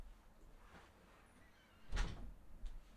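A single door thuds shut indoors, one short, fairly close knock standing out of a quiet room, followed by a fainter knock a moment later.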